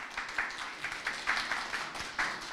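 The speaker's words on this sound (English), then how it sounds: "give some applause to this team" A crowd at a startup demo day applauds a team after its pitch, a steady patter of clapping at moderate volume with no speech over it.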